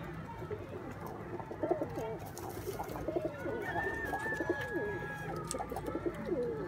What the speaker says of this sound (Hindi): ये कबूतर हैं जी आपके सामने।